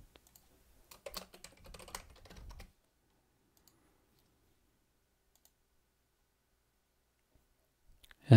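Password typed on a computer keyboard, a quick burst of close, quiet key clicks lasting about two seconds, followed by near silence with a few isolated taps.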